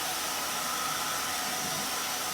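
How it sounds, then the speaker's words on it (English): A blow dryer runs steadily to dry paint on a painted welcome windmill yard decoration, giving a continuous, even hiss that stays at one level throughout with no talking. "let me hit it with the blow dryer and just try to get it to dry"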